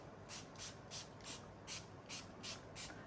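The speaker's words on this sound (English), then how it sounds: "Where's my spray spritzer? I've got my spritzer." A hand spritzer bottle sprays water onto paper for card making, sharp hissing puffs in a steady rhythm, about eight quick bursts, close and quiet with no voices.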